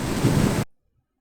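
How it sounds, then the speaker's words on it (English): Sea waves wash in with a loud, rushing surge that swells and then cuts off abruptly into silence. "maybe the sea level's risen and there's water lapping at the doorstep"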